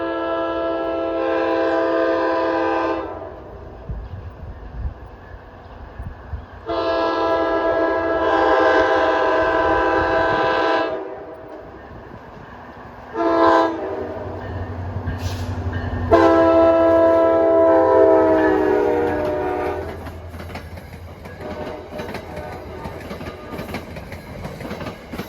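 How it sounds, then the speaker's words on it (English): Train 59, the Hoboken to Port Jervis Express, rolls past with three loud, long horn blasts and one shorter one, over a steady rumble of wheels on rail. "here comes train 59, Hoboken to Port Jervis Express"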